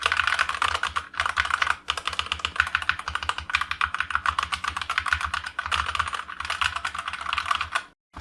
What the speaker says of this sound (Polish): ta klawiatura jest po prostu głośna